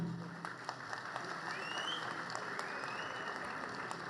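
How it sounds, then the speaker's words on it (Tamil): Distant clapping from an audience at a political birthday rally on a stage, a soft continuous patter of many hands with faint whistles and voices beneath it. "உடன்பாடு உள்ளவர்கள் எல்லாம் கைத்தட்டுகிறார்கள்"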